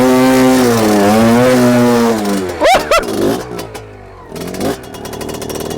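Fantic two-stroke twin-shock trials motorcycle with its engine revving hard and rising in pitch, then blipped sharply twice before dropping to a lower idle burble, close and loud with no talking.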